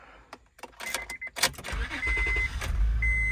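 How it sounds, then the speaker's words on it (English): A Honda car started with a new flip key: light clicks and key rattle, a brief crank, then the engine fires and holds a steady, close idle while a warning chime sounds intermittently. "Start the car as well."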